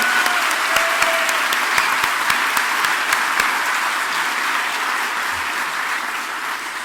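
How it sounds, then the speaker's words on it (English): Sustained audience applause at a 2018 Maine gubernatorial debate, steady and full for about seven seconds with scattered sharp claps standing out near the front. "let's together welcome everyone with a good round of applause"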